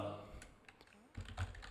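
Computer keyboard keys are pressed, including the print screen button, making a few light clicks with a voice talking around them.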